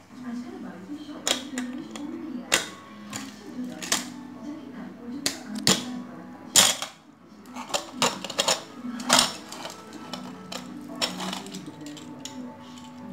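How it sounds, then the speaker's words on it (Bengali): Pressure cooker holding mutton and potatoes for Kolkata-style biryani being opened after its steam is released: a string of close metallic clicks, clanks and knocks, with a voice talking underneath. "এবার আমি প্রেশার কুকারটা খুলে নেব।"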